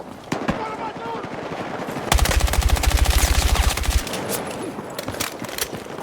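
Video game gunfire: a few scattered shots, then a dense sustained burst of rapid automatic fire lasting about two seconds, followed by more sporadic shots, loud and close with game sounds and a voice talking underneath.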